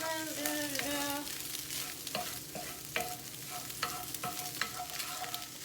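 An egg sizzles in a hot pan for Chinese fried rice while a spatula stirs it, giving a steady close fry under repeated scraping clicks and a brief squeak of utensil on pan.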